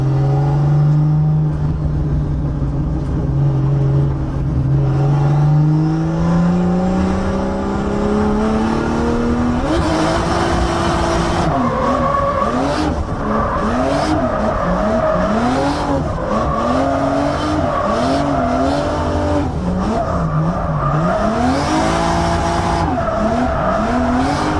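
A big-turbo 2JZ-swapped Nissan S14 drift car revs hard, its engine note climbing steadily and then pulsing through repeated sharp throttle blips with tire squeal, loud and close, with no talking.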